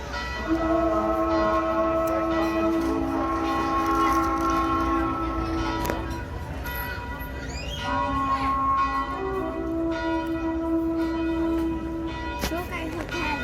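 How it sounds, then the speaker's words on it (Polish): Church bells in Szczyrk, Poland ring out in sustained, overlapping peals, fairly loud and resonant, with a brief pause midway before the ringing swells again. "akurat coś tutaj, dzwony biją"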